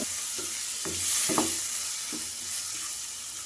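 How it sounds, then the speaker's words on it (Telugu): Chopped tomatoes fry in oil for an egg masala curry, giving a steady, close sizzle with a few spoon scrapes and stirring knocks spread through it. No one speaks. "ఈ టమాటా ముక్కలు మెత్తబడేంత వరకు ఆయిల్లో వేయించుకోవాలి"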